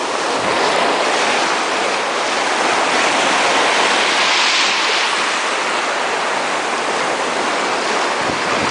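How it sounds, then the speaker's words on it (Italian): Rough sea water surges and breaks at the Fontane Bianche shore, a loud, constant roaring wash of surf with a swelling crash midway and some wind buffeting, no voices. "c'è l'acqua abbastanza agitata"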